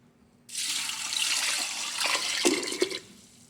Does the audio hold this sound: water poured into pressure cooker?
yes